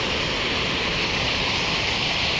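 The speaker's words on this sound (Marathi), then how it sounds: "धबधब्याचं रौद्ररूप बघा एकदा" Waterfall at Parola, Hingoli, in heavy flow: a loud, continuous roar of falling water, close and steady with no breaks.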